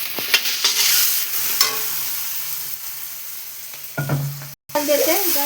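Red chili paste for a Bengali katla fish curry sizzles loudly in hot oil in a pan, a crackling frying hiss with intermittent stirring scrapes and clinks; it cuts out briefly near the end.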